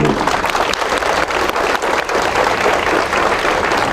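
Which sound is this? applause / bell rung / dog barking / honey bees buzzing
applause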